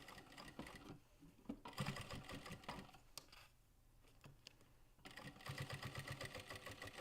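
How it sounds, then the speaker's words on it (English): Sewing machine basting layers of a bag together, stitching in a steady close hum that pauses briefly in the middle before starting up again, with no talk over it. "basting all the way around."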